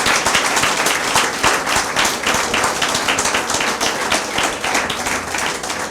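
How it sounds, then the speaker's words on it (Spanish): Steady, dense applause from a church congregation at a worship service, close and loud, many hands clapping continuously without pause. "Denle un aplauso al Señor"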